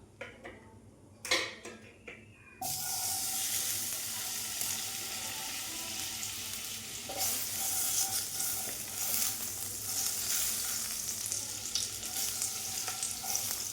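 Butter melting in a kadai sizzles steadily at close range after a few soft clinks at the start, with a continuous loud frying hiss that carries on without any talk.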